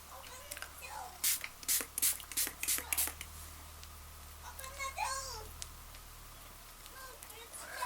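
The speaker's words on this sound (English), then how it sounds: "just squirt your whole face with this." Several quick, sharp bursts of makeup setting spray fired close by at a face in a rapid series, followed by faint vocal sounds and quiet shuffling.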